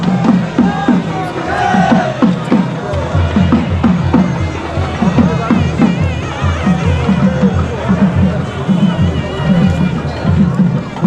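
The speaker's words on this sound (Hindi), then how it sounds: "भीड़ देखो एक बार दोबारा से, मैं मंदिर के सामने आया हूँ।" A dense crowd of pilgrims in front of Kedarnath temple creates a loud, continuous hubbub of overlapping voices and footsteps, with steady babble and bustle throughout.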